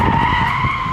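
Tires of a BMW 330e hybrid sedan skid loudly in a sustained squeal as the rear end slides during a drift, steady and close with no talking.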